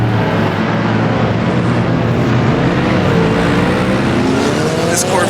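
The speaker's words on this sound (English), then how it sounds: "This Corvette C1 is quite a small car." 1959 Corvette C1 racing car in Assetto Corsa at Marlboro, its engine roaring loudly and continuously with shifting pitch as it races, a brief tire squeal near the end, close and dominant.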